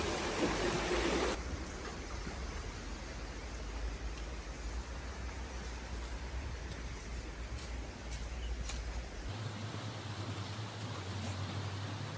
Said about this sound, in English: Relaxing sound of water.